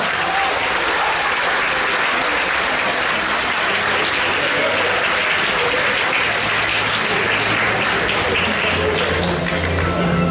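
Loud, dense applause fills the hall at a graduation farewell concert for the class of 2025, sustained evenly from a large audience throughout.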